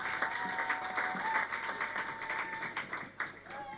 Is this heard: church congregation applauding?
yes